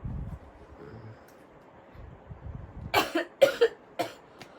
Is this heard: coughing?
yes